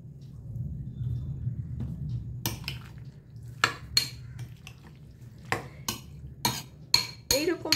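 Salad being tossed with gondhoraj lemon juice in a bowl, a run of sharp clinks and scrapes of a utensil against the bowl, growing busier toward the end over a low background hum.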